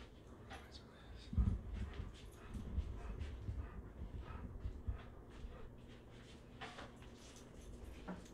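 Dogs whimper and yip softly at a home before a Ryobi 40V leaf blower starts. The whines are faint and scattered, with a sharper yelp early on and quiet background noise throughout.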